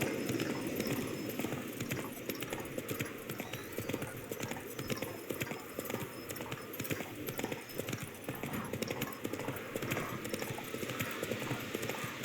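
Roach, Geralt's horse in The Witcher 3 game, trots with a steady, rapid clip-clop of hooves, fairly close and continuous, while a voice talks faintly over it.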